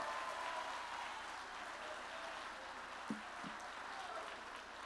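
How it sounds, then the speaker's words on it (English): A room full of people at a coaches' awards ceremony claps steadily in sustained applause, a dense even patter with a couple of brief thumps partway through. "Give them a round of applause."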